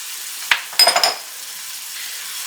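A rice dish seasoned with paprika, dry mustard, parsley and chili powder gets stirred in a pot: a quick scrape followed by a short cluster of stirring and sizzling sounds, then a quiet, low background.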